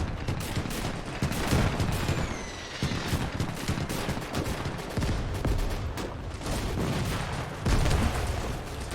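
Sustained battlefield gunfire in Gates of Hell, set in the 1941 German invasion of the Soviet Union: rapid rifle and machine-gun bursts mixed with heavier anti-tank gun blasts, loud and continuous throughout.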